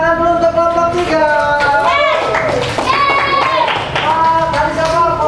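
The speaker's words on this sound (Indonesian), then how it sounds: "beri tepuk tangan dulu untuk kelompok 3" Classroom applause for group 3 as clapping hands mix with a lively chatter of children's voices, continuous and busy for the whole stretch.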